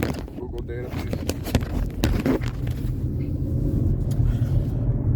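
A car driving along a road, with a steady low engine and road rumble running throughout and a few brief knocks and clicks from inside the cabin.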